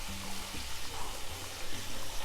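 Cumin seeds and chopped green chilies splutter in hot oil over a low flame, a steady close hiss with no distinct pops and a faint low hum underneath.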